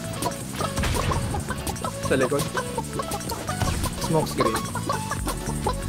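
Chicken clucking in the battle royale game Realm Royale, with rapid repeated clucks mixed with game hits and effects, while players talk over it in Filipino.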